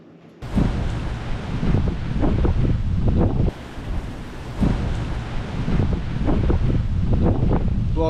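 Strong gusting wind blowing around 30 with higher gusts, roaring loudly against the microphone in surging bursts, briefly easing mid-way before rising again, with no talk over it.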